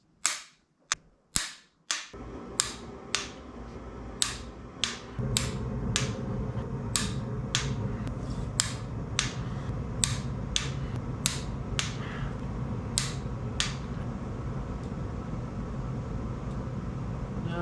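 Sharp, regular clicks from a torque wrench tightening bolts on a Corvette C6 Z06 stroker engine, each click crisp and close, repeating roughly every half second over a steady background hum.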